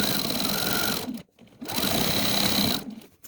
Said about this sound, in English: And now all I'm going to do is sew down this edge.